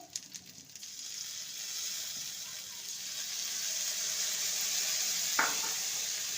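A steady, moderate sizzle of vegetables cooking in a pan as soy sauce is added, with a brief clink near the end and no voices.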